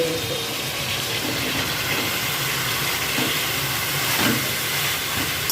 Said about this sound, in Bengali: এবার যে গ্রেট করে রেখেছিলাম পেঁপে সেটা আমি দিয়ে দিচ্ছি।